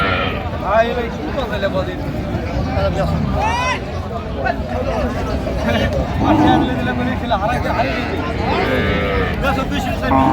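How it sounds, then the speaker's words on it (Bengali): Several cows with calves moo repeatedly, some close and some farther off, amid a busy crowd of people talking in the background at Raniganj cattle market. "গাভী বাছুর"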